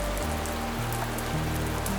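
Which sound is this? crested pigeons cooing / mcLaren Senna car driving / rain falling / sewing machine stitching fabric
rain falling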